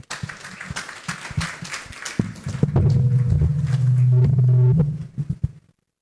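Scattered audience clapping follows a finance lecture, fading after a couple of seconds into a steady low electronic hum with a few tones that then cuts off abruptly.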